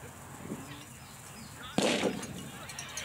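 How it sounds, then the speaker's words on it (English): Starting cannon fires at the start of a boys' 6-to-8-year-old 3K cross-country race in 2017, a single sharp boom heard at a moderate distance and trailing off in outdoor noise. "And the cannon has fired."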